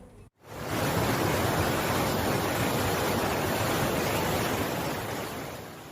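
Flash flood water from the overflowing Cihonje river in Sumedang roars as a loud, steady torrent, starting after a brief cut and then rushing on without a break.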